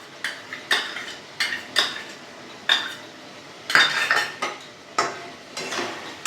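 A utensil scrapes and clinks against a pan while onion paste is stirred and sautéed, in irregular bursts of close, sharp metallic knocks and scrapes with brief pauses between.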